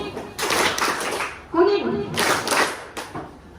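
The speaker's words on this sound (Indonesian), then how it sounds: "Tepuk dulu 2, baru 1 diberi jeda, diberi jarak" Rhythmic hand clapping from a classroom group of students following a colour-coded clap pattern, a few claps in short bursts with pauses between, mixed with voices talking.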